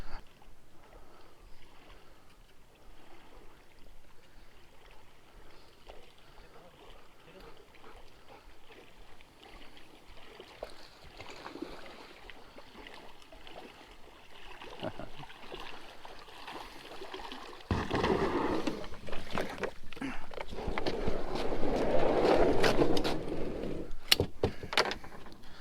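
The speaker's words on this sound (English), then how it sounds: "Comes the wife. I'll watch her paddle in." A kayak is paddled in across the water, faint ripples and drips at first, then the paddle strokes and splashes grow louder and closer as the boat arrives.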